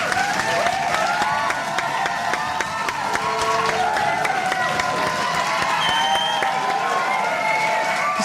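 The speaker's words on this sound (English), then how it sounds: "Just 6 more minutes of applause." A studio audience breaks into sustained applause, dense clapping mixed with cheers and whoops, steady and loud throughout.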